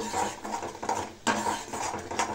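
Spices being stirred and fried in oil in a pan for a Bengali jackfruit curry, heard as continuous scraping and soft clattering of a spoon against metal, moderately close, with no talking.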